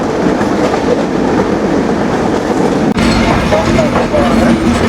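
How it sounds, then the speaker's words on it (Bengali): Kapotaksha Express rolling out of Mirpur railway station: a loud, continuous rumble with rhythmic wheel clatter, joined later by thin, faint wheel squeals. "আমরা এই মুহূর্তে ছেড়ে যাচ্ছি মিরপুর রেলওয়ে স্টেশন।"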